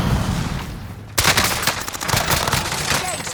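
Gunfire in a shooter video game: a sudden onset of rapid, rattling shots after a second of muffled ambience, continuing as dense bursts at close range.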